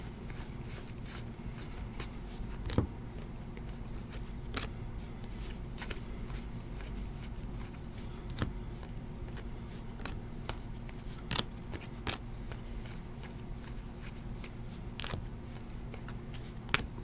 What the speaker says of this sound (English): It's a habit of just separating the cards